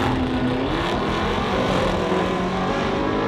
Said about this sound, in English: the SV was rapid down the straight